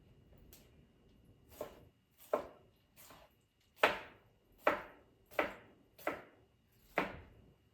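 A knife chops through frozen pineapple on a board in a quiet kitchen: about nine crisp, separate thuds, sparse at first and then a steady rhythm of firm, close chops.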